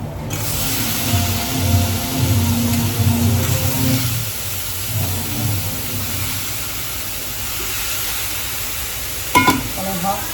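Eggplant sizzles steadily in a hot pan with tempered dal while a spoon scrapes and stirs, the frying hiss continuing throughout with a brief clink near the end.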